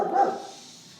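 A single dog bark sounds at moderate distance, a short muffled woof that fades quickly into a faint tail.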